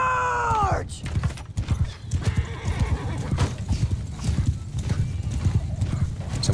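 A cavalry charge in the medieval combat game Mount & Blade II: Bannerlord has many horses galloping in a dense, rapid clatter of hooves. Neighs and a brief shout sound near the start, and the battle din continues loud and close.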